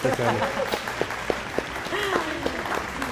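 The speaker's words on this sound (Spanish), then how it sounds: "Un aplauso." Applause for the winner of a TV programme contest, a scattered, moderate patter of claps under a host's talking and some laughter.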